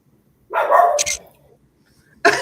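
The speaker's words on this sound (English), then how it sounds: "Is that an answer from your puppy?" A puppy barks nearby, one loud bark followed by a brief second burst after a short pause, in a quiet room.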